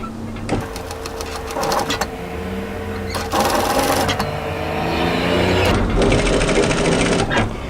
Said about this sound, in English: So I'm going to stitch through this overlocking line.